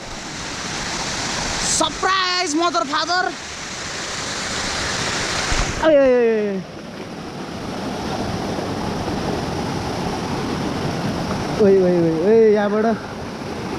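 The Jharuwarashi waterfall at Santaneshwor gives a loud, constant rush of falling water nearby, while a person speaks over it in several short bursts.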